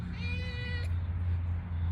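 Stray cat outdoors giving a single short, clear meow close by, followed by steady low background rumble with no other voices.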